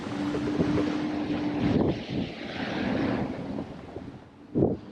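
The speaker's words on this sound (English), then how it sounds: "wind is back up again, 29 knots, keeps hitting 30 occasionally" Strong wind of about 29 to 30 knots buffets a sailing boat at sea, a loud roaring gust-driven rush with sloshing water and microphone wind noise rising and falling.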